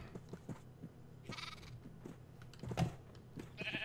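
Minecraft sheep bleat a few times at low volume, one short bleat early and another near the end, amid soft game footsteps and clicks.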